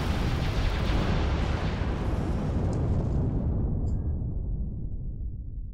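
The main cannon of a warship fires in the Star Wars: Ascendancy video game, a single loud booming blast with a long rushing roar that fades steadily over several seconds.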